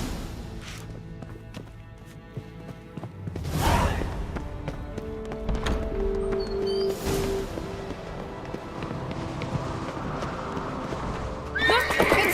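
Horse hooves clip-clop along with loud neighs and whinnies, over a rumbling soundscape with occasional whooshing bursts, from The Witcher 3: Wild Hunt.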